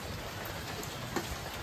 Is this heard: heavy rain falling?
yes